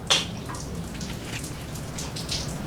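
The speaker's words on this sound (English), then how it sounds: "if you hear like raindrops in the back, the actual snow is melting off the top of this carport" Melting snow drips off the top of a carport like light rain, a faint, steady patter of scattered drops in the background with one brief sharper drip near the start.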